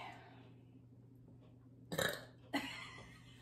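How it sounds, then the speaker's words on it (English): Two short burps after eating hot sauce wings, the first slightly longer, the second following about half a second later, over a quiet room hum. "The burps start now."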